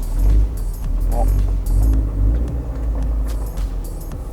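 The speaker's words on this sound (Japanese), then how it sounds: "このマフラーの音はお気に入りです" A deep, rumbling Toyota 86 engine with an aftermarket exhaust drones steadily from inside the car, with low exhaust tone under a voice speaking.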